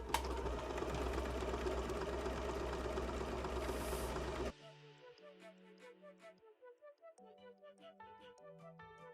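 Home sewing machine stitching a buttonhole with a buttonhole foot: loud steady mechanical whirring for about four and a half seconds, then it stops and soft tonal beeps and clicks follow.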